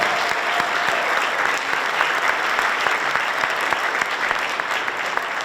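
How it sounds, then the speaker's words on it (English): A concert audience at a Broadway-themed music academy show claps steadily, a dense, loud wash of applause that holds evenly from start to finish. "How about another round of applause?"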